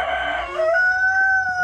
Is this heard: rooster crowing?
yes